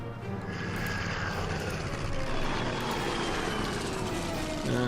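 Fighter planes droning in the Order of Battle strategy video game, a steady moderate engine hum with propeller-like texture that stays level throughout, slightly swelling midway.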